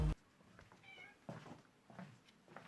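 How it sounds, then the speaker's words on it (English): A cat named Lily gives a short, soft meow and a few quiet murmuring chirps indoors, faint and close, after a brief thump at the start. "What does the cat say?"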